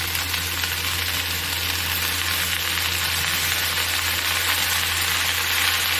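Kharkol leaves drop into hot oil, setting off a loud, dense, unbroken sizzle that holds steady and close throughout, with no voices.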